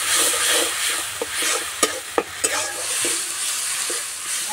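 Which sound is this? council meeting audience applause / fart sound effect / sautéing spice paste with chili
sautéing spice paste with chili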